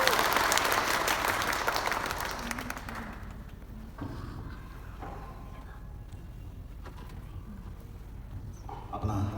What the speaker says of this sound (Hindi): ताली मार दीजिए